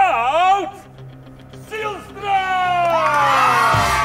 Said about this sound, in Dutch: En dan wil ik graag een groot applaus voor hem hebben.